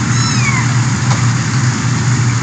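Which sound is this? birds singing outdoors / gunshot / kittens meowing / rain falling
kittens meowing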